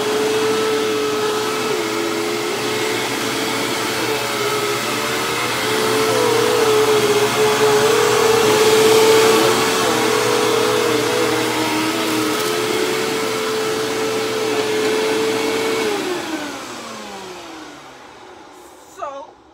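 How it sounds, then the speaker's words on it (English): Hoover WindTunnel Plus upright vacuum cleaner running over shredded paper, a loud steady motor whine that swells as it sucks up debris, then winds down and cuts off near the end. "we're going to start with the Hoover and see what it does with the one pass."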